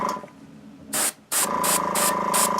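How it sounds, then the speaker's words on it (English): An airbrush sprays teal paint over white primer on a miniature during weathering, giving loud close hissing bursts, one short blast then a pause, followed by several pulsed sprays over a faint hum. "I'm going to spray this teal right over the white that I sprayed"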